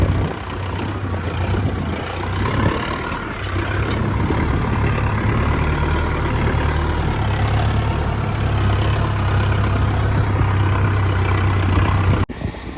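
A Farmtrac 60 tractor engine runs steadily at idle, a low continuous rumble that holds throughout before a brief clunk near the end.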